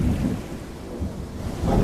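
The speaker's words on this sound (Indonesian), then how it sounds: "Hujan lebat pun turun disertai dengan petir yang menggelegar." Heavy rain pours down with a low rumble of thunder, a dense, steady wash with no voices.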